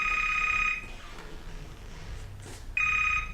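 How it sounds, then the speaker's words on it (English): A telephone between two beds on a theatre stage rings in two bursts of bright electronic trilling, separated by a quiet gap of low room noise. "the phone in between the 2 beds starts ringing."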